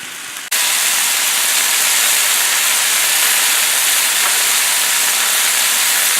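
Rain hitting a camper van awning on a wet morning at a riverside camp, a loud, dense, unbroken hiss that starts abruptly and keeps a steady intensity throughout, with no talking.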